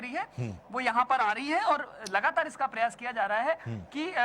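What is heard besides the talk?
No everyday noises stand out.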